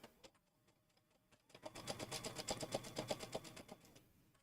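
Sewing machine stitching a binding along the fold on a travel laundry bag: a quiet start with a few slow stitches, then a fast, even run of rhythmic needle clatter, close and fairly soft, with no talking.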